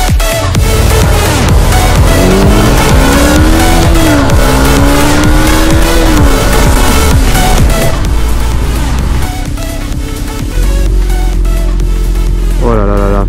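A blue Porsche 911 Carrera GTS drives past loudly, its engine rising and falling through revs with sweeping pitch changes, under heavy continuous sound and a few faint voices.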